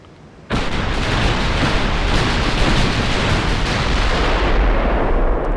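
Naval gunfire in Ultimate Admiral Dreadnoughts: a sudden loud warship salvo booms out and rolls on as a sustained, heavy rumble of firing and blasts, with no voices.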